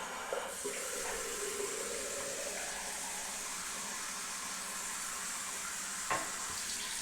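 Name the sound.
hot water running from a tap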